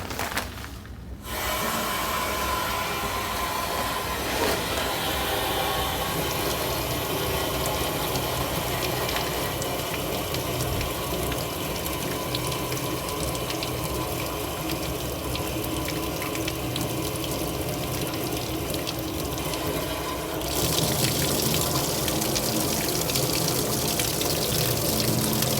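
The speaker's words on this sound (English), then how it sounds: "This sink right here is on its own little sump pump." A sump pump serving a single sink drives water up through overhead piping, a steady loud rush of flowing water with a faint mechanical grind that runs continuously, briefly shifting in tone near the end.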